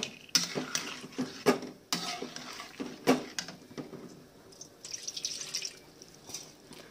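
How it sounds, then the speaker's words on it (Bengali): Arum yam pieces tipped with water into sautéed masala in a home kitchen pan, giving several close, uneven splashes and drips with light clinks of utensils against the pan, no voices. "মশলাটাকে একটু কষিয়ে তারপর এটাতে জল সহ মেটে আলুটাকে দিয়ে দেওয়া হলো"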